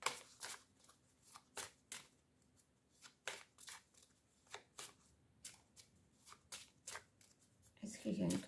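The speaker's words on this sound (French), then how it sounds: "Je vais prendre une troisième carte." Oracle cards are handled and shuffled in a quiet room: a series of crisp, close riffling and sliding bursts in an irregular rhythm, with a soft voice briefly at the end.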